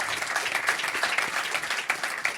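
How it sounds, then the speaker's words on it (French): Dense audience applause at a French sailing talk, a steady wash of many hands clapping at moderate loudness with no break. "je vais vous demander de les applaudir à nouveau"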